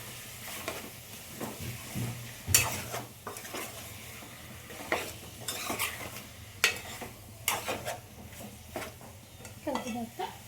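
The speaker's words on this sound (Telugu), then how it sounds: "గరం మసాలా, వేసిన తర్వాత కలుపుకోవాలి." Chicken curry is mixed after garam masala goes in. A ladle scrapes and clinks against the pot in repeated irregular strokes over a low, steady sizzle, close by.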